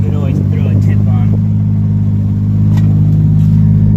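A Toyota Cressida with a 1JZ engine and a new exhaust rumbles steadily at idle, a loud, close, even drone with a low growl throughout.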